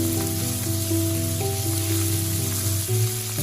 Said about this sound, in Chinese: 油热之后，先把肉末倒下去炒香。